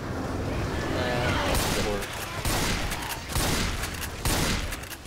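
Machine gun fire in Left 4 Dead 2, loud bursts of rapid shots in repeated volleys with short gaps between them, close and dense.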